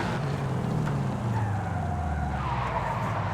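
A Toyota GT86 slides sideways through a drift in a racing game, its engine droning steadily under a sustained tyre screech for a few seconds.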